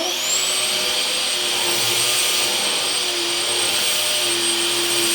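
Close and loud, a vacuum cleaner motor runs continuously with a steady high-pitched whine and a broad airy roar, unchanging throughout with no voices.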